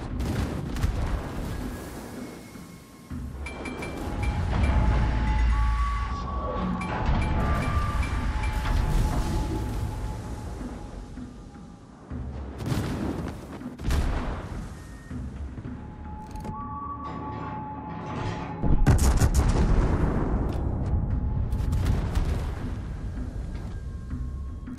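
Heavy naval artillery from World of Warships, big guns booming in several separate salvos with rumbling tails, loud and fairly close, no talk.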